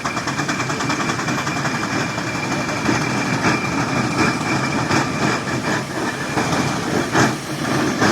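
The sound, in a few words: showman's steam traction engine running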